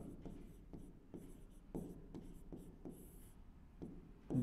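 Handwriting a definition with pen on paper: soft rhythmic scratching strokes repeating steadily, faint and close, in a quiet room.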